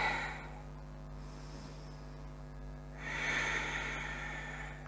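Steady breathing during a seated yoga twist in a Vinyasa class, soft and close, with a fuller, louder exhale swelling about two-thirds of the way through over a low room hum.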